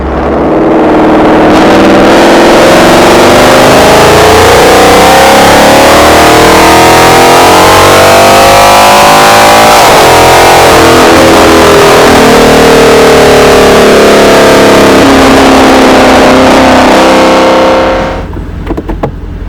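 A 2019 Ford Mustang GT in track mode, 10-speed automatic, with Borla S-Type exhaust: a very loud, close V8 roar climbing through revs, dipping briefly at a shift, then climbing again and cutting off near the end.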